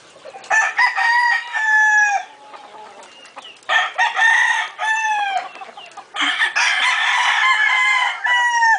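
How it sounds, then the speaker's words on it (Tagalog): Several gamecock roosters crow loudly in turn, long repeated cock-a-doodle-doo calls close by, with brief pauses and some clucking between them, in Caoayan, Ilocos Sur. "Marami pa dyan nakakalat na manok."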